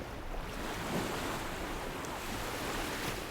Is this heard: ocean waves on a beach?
yes